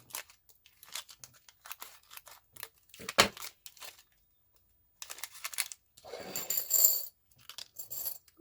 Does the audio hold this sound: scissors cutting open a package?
yes